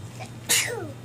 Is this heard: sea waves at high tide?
no